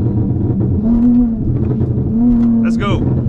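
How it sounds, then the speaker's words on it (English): A V6 Charger with a burble-tuned exhaust rumbles loudly from inside the car, its low engine drone swelling twice in short revs, with a brief high squeal of tire spin near the end. "Let me know if y'all like my little sound effects for the burble tune"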